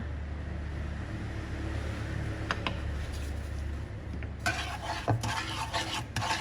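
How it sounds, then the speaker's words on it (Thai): Chili paste with salt and vinegar being stirred in a pan over low heat, soft scraping and occasional light clinks of the utensil against the pan, quiet and close. "คนทุกอย่างให้เข้ากันละลายเข้ากันค่ะ"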